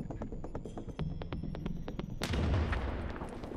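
Gunfire and a grenade explosion in the video game The Division: a rapid string of sharp shots, then a loud rumbling blast around the midpoint that lingers as heavy low roar.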